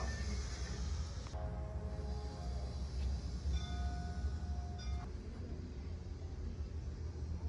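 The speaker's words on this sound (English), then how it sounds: "Biggest model train set I've ever seen." A steady rumbling of a large model train running at a circus museum fills the clip, with faint tonal squeals rising and fading over the continuous low drone.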